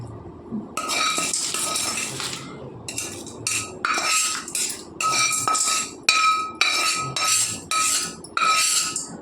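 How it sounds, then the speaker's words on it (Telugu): A metal spoon stirs gongura pickle in a bowl, making repeated rhythmic scraping clinks in steady bursts, close and fairly loud, with no voices. "మొత్తం కలుపుకుందామండి మొత్తం కలిపేసేసుకుందాము"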